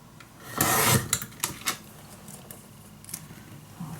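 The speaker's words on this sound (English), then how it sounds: "now I'm just gonna cut. I'm gonna start at the bottom for a 1/2 inch" Scissors or a paper cutter slice paper for a scrapbook mini album in close, soft rasping strokes: one longer cut followed by several short, quick snips and rubs.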